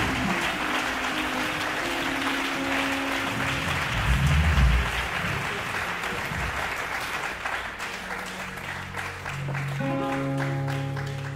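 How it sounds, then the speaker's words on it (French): A church congregation applauding and cheering to acclaim the Lord, with steady, full clapping and shouts of joy filling the room, while music tones sound underneath. "Nous allons acclamer le Seigneur pour recevoir la grâce du Seigneur Jésus."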